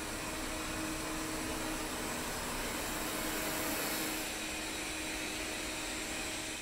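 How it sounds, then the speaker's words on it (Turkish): A Philips HomeRun 7000 robot vacuum cleaner runs with a steady, even whirring hiss that stays constant at moderate volume for the whole stretch, with no talking. "Robot süpürge genel olarak sessiz çalışıyor bu arada."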